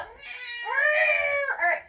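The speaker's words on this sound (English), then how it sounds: "oh, that's my cat." A pet cat gives one drawn-out, wavering meow followed by a short second call. Both are close and clear against a quiet room.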